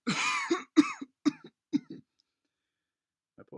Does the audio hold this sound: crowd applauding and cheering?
no